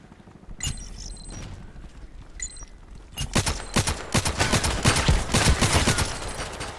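Rapid bursts of gunfire from the online shooter Contract Wars on the Terminal 2 map, sparse shots at first, then dense, loud volleys and automatic fire crowding the second half with no talk.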